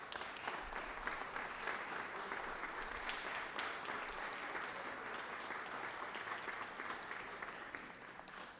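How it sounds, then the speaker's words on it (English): Legislators in a state legislative chamber give visiting youth a round of applause, heard as a steady, fairly distant and quiet patter of many hands that continues for over eight seconds. "colleagues, I'd ask if you could give them a round of applause this morning"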